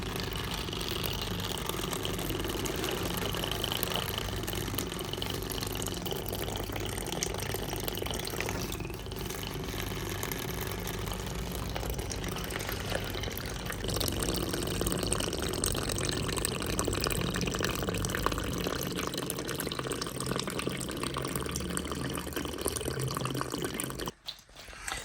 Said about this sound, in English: So the water's pulsing like that because there's air bubbles